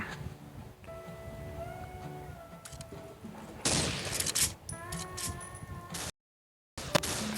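Rapid bursts of gunfire in the Minecraft PE mobile shooting game, a loud fusillade of clattering shots with tonal game sounds, broken by a brief silent gap before the firing resumes.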